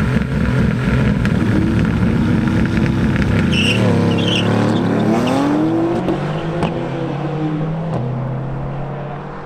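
A tuned BMW X3 M Competition with the S58 engine and a 2020 Mercedes-AMG GT R race, engines howling hard as they accelerate through rising and shifting gears, loud at first then fading into the distance without talk.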